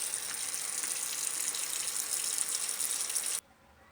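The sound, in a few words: washing greens in a water bath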